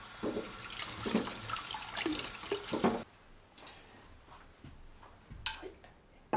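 Peeled rakkyo shallots are rubbed and rinsed under a running tap in a sink, water splashing for the first few seconds, then quieter drips and handling noises.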